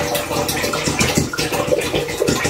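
One liter of vinegar pours steadily from a container, a continuous close liquid splash and gurgle with no talking.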